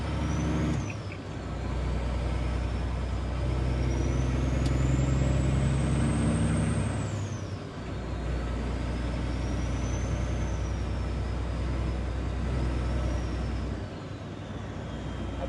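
A semi truck rolls along on a night run with a steady, loud engine drone and road roar. The engine tone climbs and falls through gear changes, with brief dips where it shifts.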